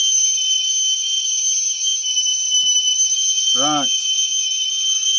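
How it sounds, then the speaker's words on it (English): A whistle kettle shrieks with a loud, steady, high-pitched tone that runs unbroken throughout, close at hand inside a motorhome, with someone briefly speaking over it. "That bloody whistle kettle Mrs. wanted."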